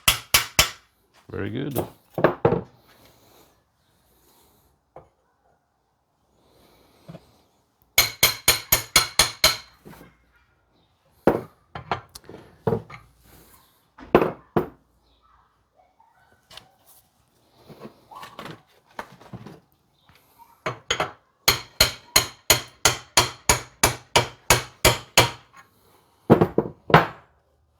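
Hammer taps drive parts into the link-pin front end of a 1956 Volkswagen held in a vise, sharp metallic knocks coming in quick rhythmic bursts with pauses between, close and loud, with brief talk in between.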